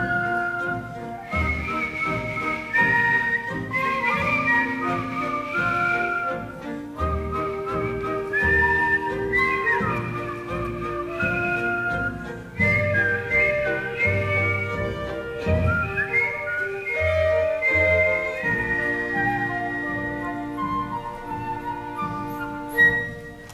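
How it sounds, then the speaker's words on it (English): A person whistles a flowing, melodic tune on stage during a musical, clear and close, with gliding notes and brief pauses between phrases. "Whistle. Whistle. When you're afraid, you whistle."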